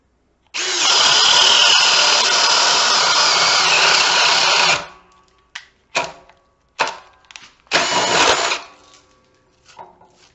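A Ryobi HP cordless drill bores through wood with a 1.5 inch Diablo Speed Demon bit, a loud, steady whirring grind for about four seconds, followed by several short, sharp bursts of drilling.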